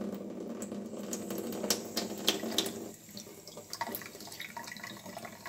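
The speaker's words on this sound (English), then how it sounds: "listening carefully to the sound of the water" Water running from a tap while hands are washed, a steady close splashing stream with small clinks and drips, quieter and more broken toward the end.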